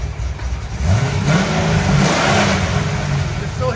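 A cammed 2006 Chevy Corvette Z06 with a 7.0L V8, headers and X-pipe revs loudly nearby, its low choppy idle rising and falling through a single rev over a steady rumble.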